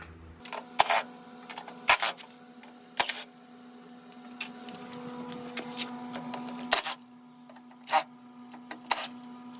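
Sharp metallic clicks and clacks from removing the latches on a Ford Bronco tailgate, several distinct snaps spaced a second or two apart over a low steady hum.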